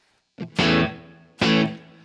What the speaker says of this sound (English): So you just hear that's a pretty tight reverb